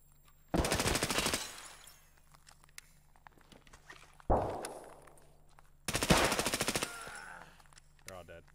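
Rapid automatic gunfire in a first-person shooter video game comes in three long, loud bursts, each followed by fading echoes and a few lighter game sounds between.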